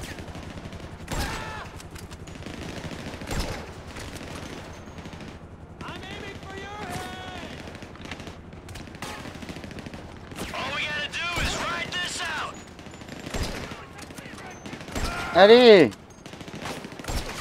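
Bursts of gunfire from an armored van attack in GTA V, sharp shots scattered through the scene with a loud cluster near the end, mixed with game noise while someone talks over it in French.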